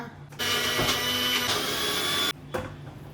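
A mixer grinder purees avocado in a loud, steady whirring burst lasting about two seconds, then cuts off abruptly, followed by a faint clunk.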